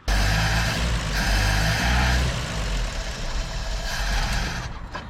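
Engine of a 1958 Chevrolet Apache pickup truck, long abandoned and running from a temporary fuel hose, revving up loudly close by with a heavy low rumble, then settling back toward a rough idle and sputtering near the end.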